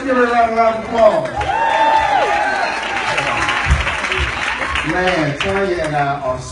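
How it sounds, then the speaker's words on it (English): Crowd applause and cheering for a family at a company event, a steady wash of clapping heard beneath and between loud, excited voices and whoops that carry on over it. "let's give it a round of applause"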